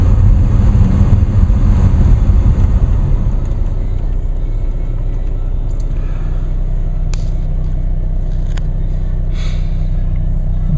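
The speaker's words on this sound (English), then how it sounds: "I just started the car" A diesel car engine idling after a cold start in sleety weather, a steady close low rumble with faint wind and a few small clicks over it.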